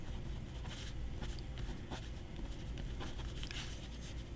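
A Visconti fountain pen with an 18 karat fine nib scratches across paper close up, a faint continuous textured rasp with small stroke-by-stroke variations.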